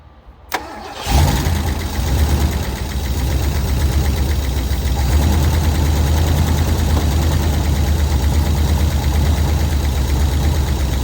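A 1967 Lincoln's engine catches after a brief crank, then settles into a loud, steady, close-up idle with a rough rumble running to the end.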